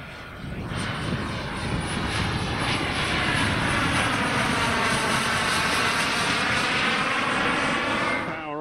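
Krill Avanti 2.2 m RC sports jet with a Kingtech 140 turbine flies past at about two-thirds throttle, a loud, steady turbine roar and whine that rises quickly and holds, with a thin high tone on top.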